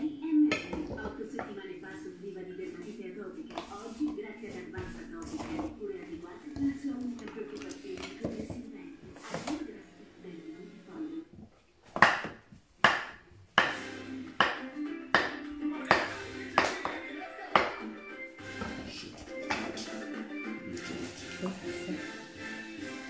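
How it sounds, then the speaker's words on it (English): A banana being sliced with a knife for a smoothie, heard as a run of sharp, evenly spaced taps on a cutting board in the latter half, over steady low background sound. "So I will be cutting my banana."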